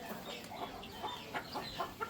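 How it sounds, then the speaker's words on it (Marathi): Chickens in a village coop give faint, scattered clucks, a few short separate calls in quick succession over a quiet rural background. "आणि तिकडे खाली कोंबड्यांचा खुराडा आहे."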